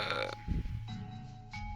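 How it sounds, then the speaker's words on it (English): A single short, low burp, fairly faint and close, with no speech around it. "Excuse me, I just burped."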